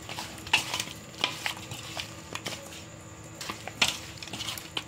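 Raw chicken is worked by hand with squeezed lemon juice in a bowl, producing wet squelching and stirring sounds with occasional clinks against the dish, close and fairly quiet.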